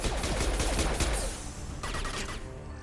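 Rapid pistol gunfire in Mass Effect 2 cracks out in quick, dense bursts for about a second and a half, then tapers into a few sparser shots and lingering echoes, loud and close with no talk.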